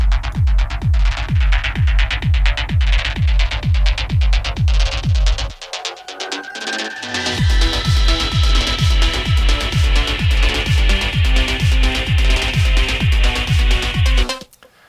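An EDM mix with EQ emphasizing the mid/center rather than the sides: a loud, steady four-on-the-floor kick pulse with a sustained synth layer, briefly dropping out midway before returning.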